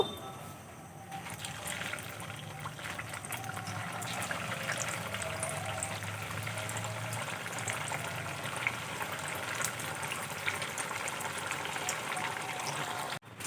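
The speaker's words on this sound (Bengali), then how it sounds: "আবারও আমি বাকি জিলিপিগুলো একইভাবে ভেজে নেব" Hot oil sizzles steadily as chhanar jalebi fry, a continuous hiss dotted with faint crackles and pops, with no voices.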